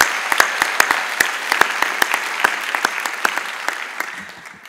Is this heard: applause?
yes